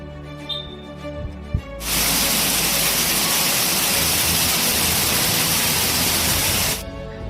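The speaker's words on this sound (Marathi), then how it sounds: "वादळी वाऱ्यासह अवकाळी पावसाने हजेरी लावली" Heavy rain driven by strong wind during an unseasonal May evening storm in Taloda, a loud steady roar that bursts in after quiet and runs unbroken for about five seconds before stopping abruptly.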